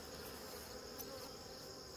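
Honey bees in an opened hive, busy with propolis, buzz in a dense, steady, high-pitched drone close up, with no voices.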